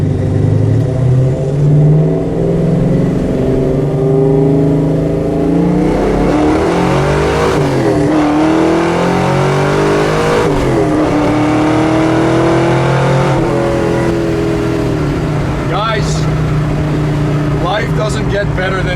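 A 1969 Ford Mustang Mach 1 V8 with a mild cam idling and revving up and down, a loud, close, slightly lumpy engine tone with rising and falling pitch, a voice talking over it.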